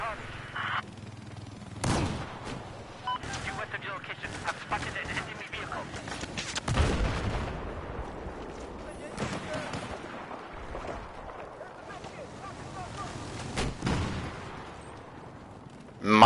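Gunfire in the Battlefield Hardline video game, with scattered loud shots and short bursts mixed with game noise, while a voice talks intermittently over it.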